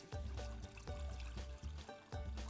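Clean water for ukala tea is poured into a vessel in pulses, several short splashing pours with brief gaps between them, close and fairly quiet, with no talking.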